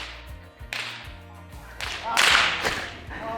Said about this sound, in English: Farmer Rob will crack his whip to move them in that direction.